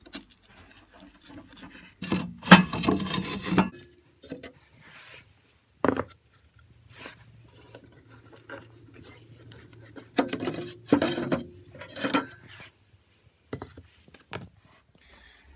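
Firebricks being worked loose and lifted out of a Franco-Belge Merville stove, with bursts of gritty scraping and rubbing, brick against metal, separated by quiet pauses, close and moderately loud.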